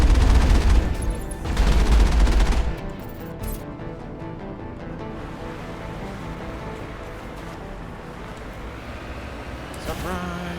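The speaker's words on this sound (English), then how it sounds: "I can hear them shooting." Gunfire from a firefight in the video game Mass Effect, a loud burst of dense shots in the first few seconds, then a quieter stretch of ambient game sound with faint scattered activity.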